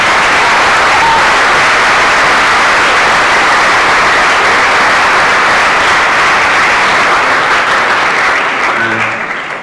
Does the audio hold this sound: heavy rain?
no